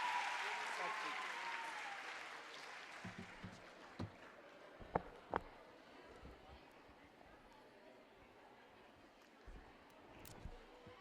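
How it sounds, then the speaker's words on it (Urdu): Applause from an audience at a career guide expo, a broad wash of clapping that is loudest at the start and fades away over the following seconds, with a few sharper knocks and crowd noise in the background. "بہت سی تالیاں"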